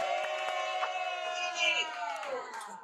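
Studio audience on a real-estate business talk show cheering and whooping, with sustained crowd voices and scattered claps, fairly loud and continuous throughout.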